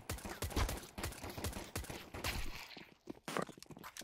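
Counter-Strike 2 gameplay with bursts of sharp gunshots and rapid fire mixed with footsteps, dense and fairly close, without speech over it.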